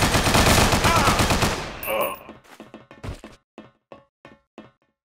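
Heavy gunfire from Scarface: The World Is Yours Remastered, a loud sustained burst of rapid shots that cuts off, followed by a handful of spaced single shots fading in strength.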